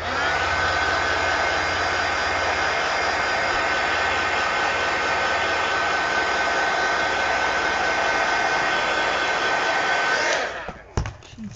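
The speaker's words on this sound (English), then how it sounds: "let me hit it with the heat gun." A heat gun blows steadily and loudly over a mixed media art journal page, a continuous roar lasting about ten seconds before it cuts off with a few clicks.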